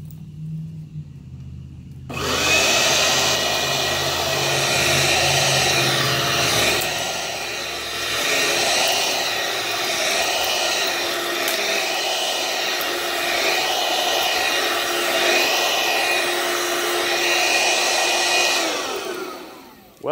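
An old vacuum cleaner switches on with a sudden loud whir and then runs steadily with its brush roll turning on carpet, a constant droning motor hum that carries on until it cuts off at the end.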